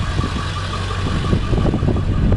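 A 2000 Ford F250 Lariat crew cab 4x4 with a 7.3 diesel and aftermarket exhaust idles steadily, a close, continuous low rumble with an even knocking pulse.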